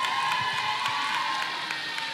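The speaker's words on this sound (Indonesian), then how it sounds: "tepuk tangan untuk mereka semua" Applause and light cheering from a crowd at a National Children's Day celebration for East Java, a steady wash of clapping with scattered whoops, moderately loud and continuous.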